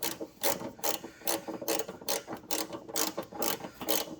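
A ratchet wrench turns a stubborn bolt on a 1994 Chevrolet C1500 Silverado, giving loud, close, rhythmic clicking in quick regular strokes of about two per second.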